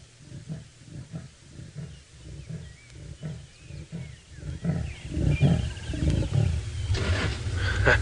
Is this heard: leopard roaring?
yes